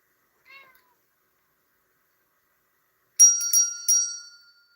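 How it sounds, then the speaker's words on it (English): A small bell rings in a quiet room with three quick bright strikes that leave a shimmering decay. Earlier there is a brief faint chirp. "That's the bell."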